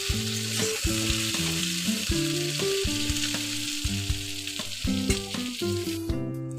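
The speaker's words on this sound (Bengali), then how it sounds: "শিম, আলু, বেগুন সব মোটামুটি ভাজা হয়ে গেছে।" Beans, potato and brinjal fry in a pan for a cauliflower-stalk chorchori, a steady loud sizzle with repeated scraping clatter of stirring throughout, no voices.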